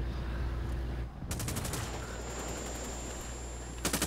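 Rapid bursts of automatic gunfire in a video game, loud and close, stuttering in repeated volleys across most of the clip with a short gap before a final burst.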